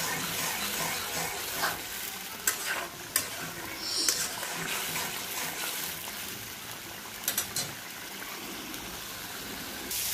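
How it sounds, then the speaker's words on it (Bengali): Spice masala of salt, turmeric and chili powder is fried with a splash of water for rohu fish, giving a continuous soft sizzle. Occasional sharp scrapes and taps of a spoon stirring the pan come through, close and fairly quiet. "একটু পানি দিয়ে ভালো করে মশলাটা কষাবো"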